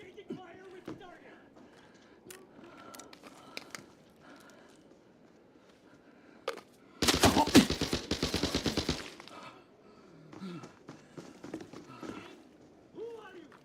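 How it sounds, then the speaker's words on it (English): A video game gunfire exchange, mostly quiet at first with scattered clicks and short sounds, then a loud sustained burst of rapid automatic fire for about two seconds, followed by quieter action and voices. "Exchanging fire with the target."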